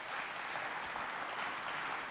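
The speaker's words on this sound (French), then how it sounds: "Applaudissez-les bien fort" A crowd at a neighbourhood youth competition in Chad gives a sustained, even round of applause, a dense wash of many hands at moderate volume holding steady without pause.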